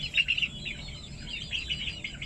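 Close, high-pitched peeping from native Thai chicks inside a coop, a dense run of chirps at the start that thins into steady scattered cheeping.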